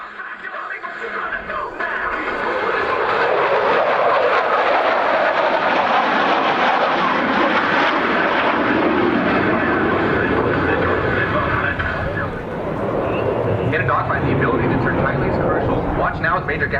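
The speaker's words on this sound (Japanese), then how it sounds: "Now as Major Gaffney shows just how exceptional the F-16 is in a 9G turn" At the Misawa Air Show, an F-16 fighter jet pulls a 9G turn during an aerobatic display, its loud, sustained engine roar swelling and holding, while a public-address announcer talks over it.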